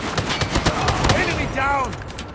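A deployed sentry gun in Call of Duty: Mobile fires a steady, rapid stream of shots under game voice lines and battle noise throughout the short stretch.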